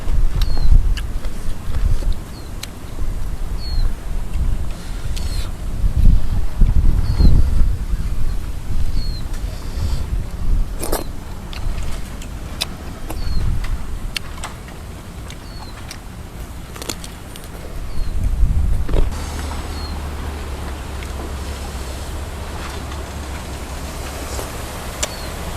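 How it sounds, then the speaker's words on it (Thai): Strong wind gusts across an open natural setting, a loud steady rushing roar with buffeting bursts, easing midway then rising into a heavier, steadier blow near the end. "ลมครับมีเสียงลมครับ"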